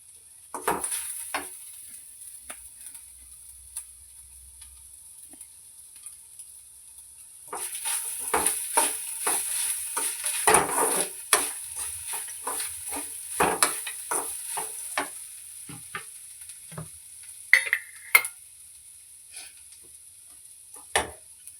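Coconut rice mixture stirred and frying in oil in a pan, with a steady close sizzle, quiet at first and then busier with repeated scraping stir strokes and light clinks of a utensil.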